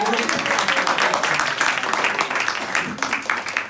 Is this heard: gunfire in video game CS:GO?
no